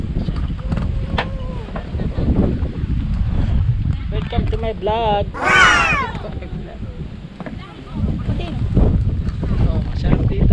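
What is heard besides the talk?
wind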